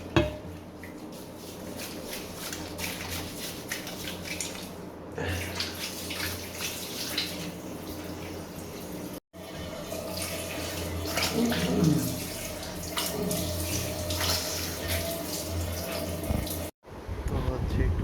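Tap water runs steadily into a basin during hand and face washing, a continuous close splashing stream with brief breaks and soft splashes.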